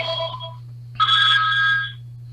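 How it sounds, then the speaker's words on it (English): A telephone rings in short electronic trill bursts, one brief ring followed by a longer one after a pause, loud and close over a steady low hum, with no voices. "Here's a phone ringing."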